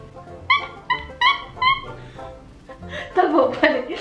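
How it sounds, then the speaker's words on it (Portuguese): A dog in a meme compilation whimpers in a run of short high yelps, then breaks into louder barking near the end, with a voice talking faintly underneath. "E o cachorro?"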